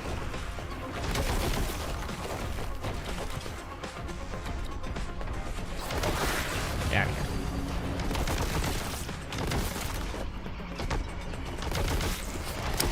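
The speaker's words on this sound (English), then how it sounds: "Please deliver yourselves unto my Boltgun" Rapid, dense gunfire from the Boltgun in the Warhammer Boltgun video game, a loud continuous barrage of booming shots and crashes with game effects layered throughout.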